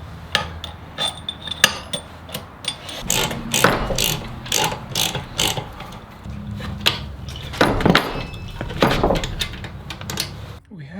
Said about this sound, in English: When I dropped the motor, it spread this apart, so I've had to ratchet it in to get it to fit.